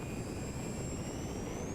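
A steady, smooth motor whine from an Avios BushMule V2 model airplane in winter flight, holding a high pitch that slowly climbs, with broad rushing noise underneath and no talking.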